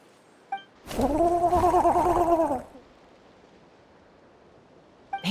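Mama Bird, a bird character in a video game, lets out a warbling, gargling call of about two seconds, fairly loud and close, framed by short faint chirps at the start and end.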